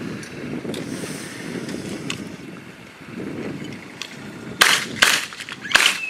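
Three sharp gunshots fired left-handed at an outdoor youth shooting activity day, loud and close and spaced about half a second apart, after a stretch of wind noise.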